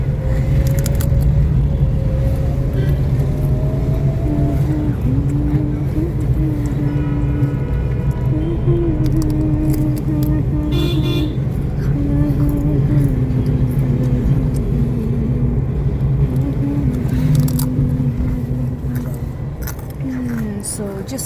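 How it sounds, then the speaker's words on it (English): Car traffic on a road, heard from inside a vehicle stuck in a jam, gives a steady engine rumble with passing vehicle noise and faint horn-like tones, and people talk over it throughout. "we are stuck in traffic"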